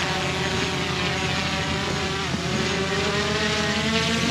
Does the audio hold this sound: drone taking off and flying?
yes